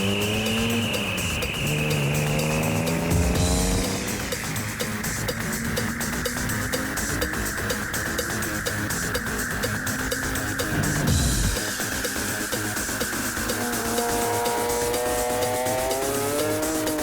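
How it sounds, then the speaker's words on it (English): A modified car with a Group M exhaust, 500 flywheel horsepower, a wet nitrous kit and a Getrag 6-speed roars loudly and continuously, its engine note sweeping up and down through gear changes. "fitted a Group M exhaust system, which definitely sounds the goods"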